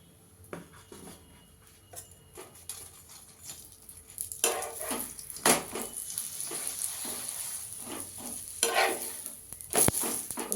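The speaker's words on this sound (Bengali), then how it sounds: "আমি এখানে ঘি দিয়ে সেঁকে নেব।" Paratha frying in ghee in a pan: a quiet start with light scraping, then a louder steady sizzle and crackle from about four seconds on, broken by occasional sharp scrapes of a spatula.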